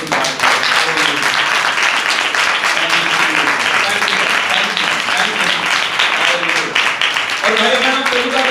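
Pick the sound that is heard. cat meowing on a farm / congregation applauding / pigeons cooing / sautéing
congregation applauding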